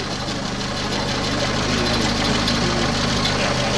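Engine of a 1951 Citroën 11 Ligero with a Stromberg carburettor, running steadily at idle with an even mechanical chatter, close up and unbroken, with no one talking.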